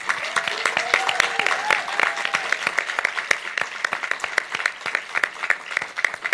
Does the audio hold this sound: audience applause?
yes